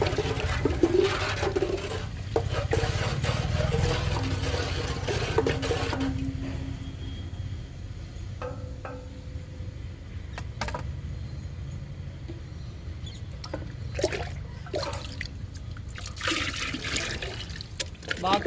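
A liquid plant fertilizer soaked four to five days, made from groundnut cake, tea powder and egg powder for tomato and leafy greens, being stirred by hand with a continuous close sloshing and swirling and occasional clunks.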